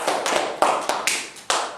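A few sharp, separate hand claps ring out nearby indoors at a youth gathering, uneven and sparse rather than a full round of applause.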